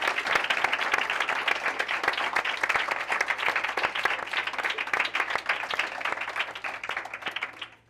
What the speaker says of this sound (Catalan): un fort aplaudiment per les 3 alumnes de l'Estonac